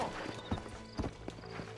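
Horse hooves clip-clopping in the Red Dead Redemption video game, a steady rhythm of hollow hoof beats about twice a second, close and clear over faint background ambience.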